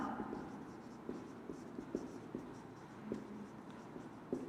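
Chalk or a pen scratches out words on a board during a botany class, with faint, quiet taps and short strokes in an irregular rhythm over a soft background hiss.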